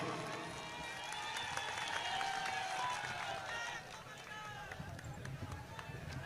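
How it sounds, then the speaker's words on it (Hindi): A large outdoor political rally crowd claps to welcome Kamal Nath, a sustained dense applause that swells then eases, with a voice on the loudspeaker over it. "जोरदार तालियों से कमलनाथ जी का आप स्वागत कीजिए।"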